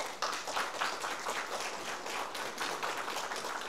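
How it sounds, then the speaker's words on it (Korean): An audience at a political talk claps steadily, a soft, even patter of many hands heard from some distance with no voices over it. "박수 한번 쳐주세요."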